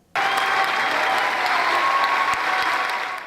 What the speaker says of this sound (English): Everyone in the entire audience stood up and clapped and cheered for him.